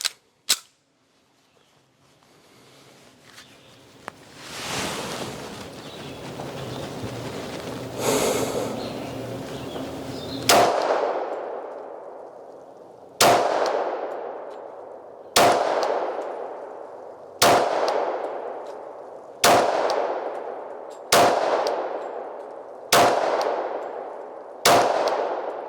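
A Sig P226 pistol fires full metal jacket rounds outdoors: after some handling noise, nine loud, sharp shots come at a steady pace, each with a ringing tail that decays before the next.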